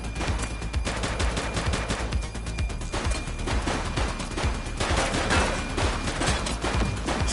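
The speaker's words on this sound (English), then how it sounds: "He's shooting!" Dense, sustained gunfire fills a shootout in the police video game The Precinct, with rapid overlapping shots and bursts that sound like automatic weapons, loud and continuous throughout.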